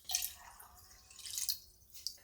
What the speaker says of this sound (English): And now we want to add fresh water to the pot